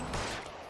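A gunshot burst in the crime game L.A. Noire, a single brief loud crack with a short rough tail, heard close and without speech.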